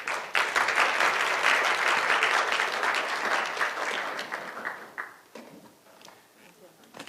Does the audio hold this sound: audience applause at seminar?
yes